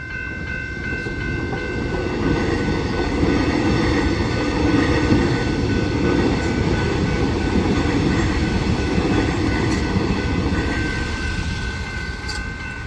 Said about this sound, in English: Yep, it's an Extrapolis 100 train.